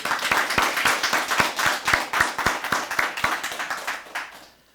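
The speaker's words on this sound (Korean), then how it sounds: "우리 박수 한번 다 칠까요?" A church congregation at a year-end Sunday service claps together in a steady, rhythmic unison beat, each clap distinct and evenly spaced, loud and close before trailing off at the end.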